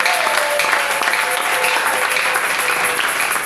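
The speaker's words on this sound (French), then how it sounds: "Est-ce qu'on peut acclamer pour la parole de Dieu?" A church congregation applauding at a French-language worship service, a steady dense wash of clapping that stays loud and even throughout, with no talk over it.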